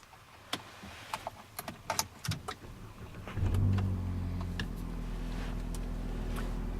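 2014 Chevy Impala with the 2.5-liter four-cylinder: a run of clicks and taps, then the engine cranks and catches and settles into a steady, close idle hum.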